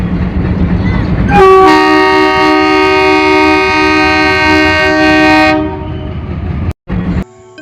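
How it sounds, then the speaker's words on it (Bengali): A train whistle blows from a distance in a long, steady, loud blast lasting several seconds, over a low background hum, then cuts off abruptly. "ঠিক তখনই দূর থেকে ভেসে এলো ট্রেনের হুইসেলের শব্দ।"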